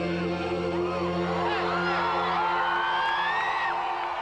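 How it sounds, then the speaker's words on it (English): A huge crowd of fans screams and whoops without pause outside a TV studio, a dense, loud wash of high cheering voices with no break. "Outside the studio, thousands of screaming fans who couldn't get into the audience watched on giant video screens."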